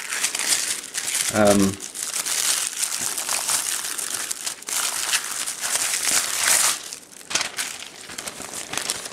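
PVC shrink wrap bag, 8x12 size, crinkling and rustling steadily as it is handled up close, with a short burst of a voice early on.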